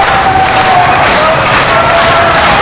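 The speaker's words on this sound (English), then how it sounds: "Crowd getting behind the Naturals." A packed arena crowd at a 2006 TNA professional wrestling event in Danville, Virginia, roars and cheers in a loud, steady, continuous wall of noise.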